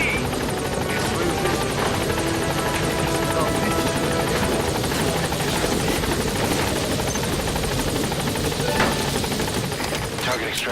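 A helicopter thrums steadily in Metal Gear Solid V: The Phantom Pain as it arrives at a landing zone, with loud continuous rotor noise filling the scene and radio-style game voices heard over it.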